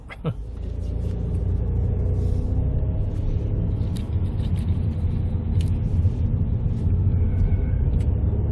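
A car engine restarts after an automatic start-stop shutoff, its low rumble swelling within the first second and then settling into a steady close idle under a speaking voice.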